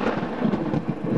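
Loud, close thunder from a nearby lightning strike during a severe hailstorm, a dense rumbling roar that fills the whole moment with no voices.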